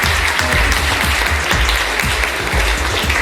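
Loud, continuous applause from a crowd, a dense clatter of clapping that fills the whole moment without letting up.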